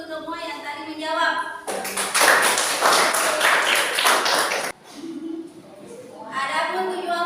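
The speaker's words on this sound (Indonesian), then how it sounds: "Jadi aplaus untuk semua yang tadi menjawab" A classroom of students breaks into lively applause for a lesson on ablution, a dense burst of clapping lasting about three seconds, with a teacher's voice speaking before and after.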